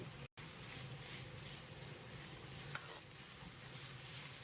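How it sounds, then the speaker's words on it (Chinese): A soft, steady sizzle of doubanjiang bean paste and hotpot base frying over medium heat in a wok, with a brief break and an occasional faint crackle. Quiet, with no speech. "然后放入豆瓣酱、火锅底料，开中火把酱炒出香味。"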